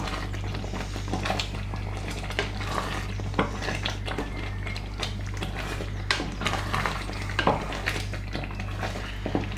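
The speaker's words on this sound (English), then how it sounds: "You've got to keep stirring it at this stage because you've got it on a relatively high heat" Chilli beef reducing over fairly high heat in a pan, stirred continuously with a utensil clinking and scraping against the metal, with a faint hum beneath.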